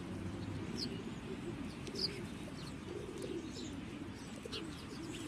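Pigeons cooing low and steady throughout, with a few faint chirps from other birds above a constant outdoor background.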